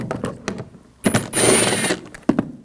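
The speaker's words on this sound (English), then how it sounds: "Use a 8mm socket. There's screws here." A ratchet with an 8mm socket loosens cover screws on a 2007–2013 BMW 328i 3.0L inline-six, giving short close clicks, a longer rapid buzzing ratchet run in the middle and a final click.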